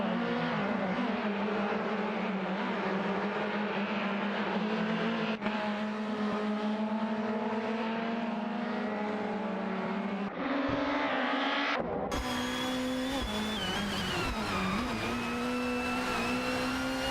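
Race cars in a racing video game roar with a steady, loud engine drone carrying strong harmonic tones. The pitch holds level, then shifts as the engines change near the end, with no talk over it.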